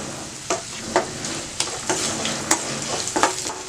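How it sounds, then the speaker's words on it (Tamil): Vegetables sautéing in a pan with pepper and asafoetida for green gram pongal, a steady sizzle broken by several sharp scraping stirs of a spoon against the pan, close and fairly loud with no talk. "இது வந்து நல்லா வதங்கட்டும்."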